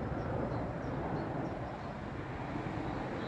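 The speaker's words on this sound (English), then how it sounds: "As a flight goes over me on the path into..." A jet airliner passes overhead on its approach path near Birmingham International, a broad steady roar heard from a rail station platform, loud and continuous throughout with no talking.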